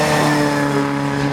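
Rally car climbing a hill at the McRae Rally Challenge, its engine holding a steady, loud mid-pitched drone with strong harmonics throughout, close by and alone.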